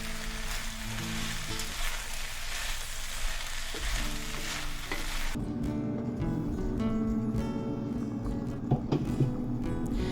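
Frozen peas tumble into a pan of hot lentil mixture for a lentil shepherd's pie, steady crackling sizzle with stirring scrapes, the frying tone shifting and deepening as the cold peas hit the pan.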